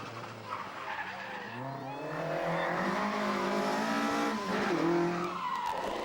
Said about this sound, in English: Andrew Jones likes to set up his Mark II sideways for the corners